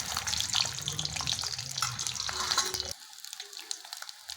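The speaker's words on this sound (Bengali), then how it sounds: "ডিমগুলো ভেজে নেব" Eggs frying in mustard oil give a close, steady sizzle with some stirring for about three seconds, then the sizzle cuts out abruptly, leaving only faint clatter.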